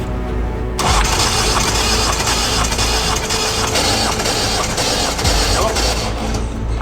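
A worn Ford car engine with heavy wear and lost compression starts up and revs, a loud, rough, continuous roar that holds steady close by, with people talking over it.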